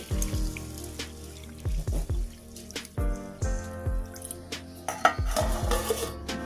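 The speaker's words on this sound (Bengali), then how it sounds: "এবারে এর মধ্যে আমি জল দিয়ে দিচ্ছি। একটু হাত দিয়ে নেড়ে দিচ্ছি।" Water splashes and trickles into a bowl of soaking rice and black gram while a hand swishes it, with clinks against the vessel and short bursts of pouring, close and fairly quiet.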